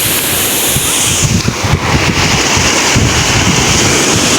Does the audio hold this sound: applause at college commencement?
no